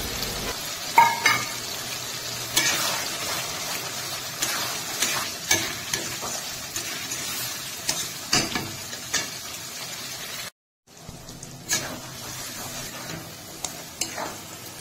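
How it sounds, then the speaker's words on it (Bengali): Spices and chopped tomato sizzle and fry in a pan while being stirred for a rustic goat-meat curry, a steady close crackle with scraping stir strokes throughout and a brief drop to near-silence partway. "সামান্য পরিমাণে জল দিয়ে মশলা ভালো করে কষিয়ে নেব।"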